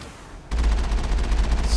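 Rapid automatic gunfire in a Mass Effect 1 firefight bursts in after half a second of near quiet, then rattles on loud, dense and unbroken to the end.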